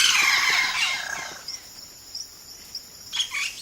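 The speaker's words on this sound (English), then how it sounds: "A single bird can sound like a chorus" Amazon rainforest birds call in a dense burst of high chirping and whistles that fades, followed by a few sparse, repeated thin high notes against quiet insect-like background.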